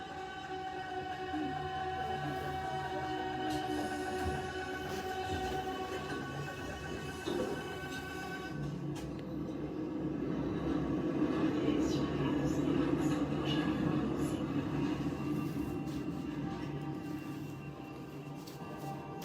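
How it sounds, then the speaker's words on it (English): A train rumbles and hisses through a Paris metro subway station, a steady loud roar with metallic squeals under background music and voices. "This concert takes place inside of a subway station, and I'm guessing it's Paris, like a Paris metro station."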